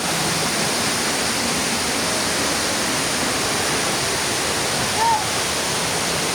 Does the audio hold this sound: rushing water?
yes